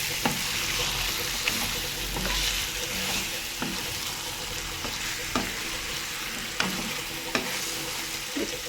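Chicken masala sizzling and frying in a pan while being stirred, a steady close crackle broken by repeated scraping knocks of the spoon against the pan.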